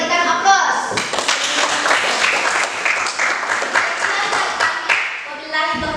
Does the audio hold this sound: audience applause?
yes